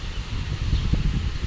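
Strong typhoon wind during a storm in Quezon under signal number 2, a steady low rumbling roar of gusts buffeting the microphone, close and loud, with faint rustling over it and no talk.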